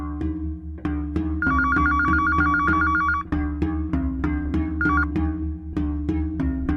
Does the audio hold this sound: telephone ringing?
yes